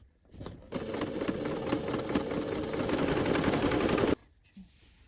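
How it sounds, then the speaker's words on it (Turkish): A sewing machine runs a fast, continuous stitching burst of about three and a half seconds along a tunic seam, loud and close, then stops abruptly, with light handling noises before and after. "Şu orta çizgiden dikiş dikeceğim."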